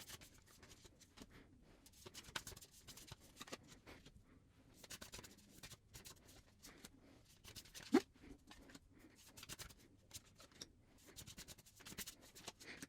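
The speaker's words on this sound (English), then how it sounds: "So I'm going to shuffle and draw the cards," Tarot cards from a Children of Litha deck being shuffled and drawn, giving soft intermittent rubbing and papery flicks in bursts with short pauses, close and quiet, with no talking.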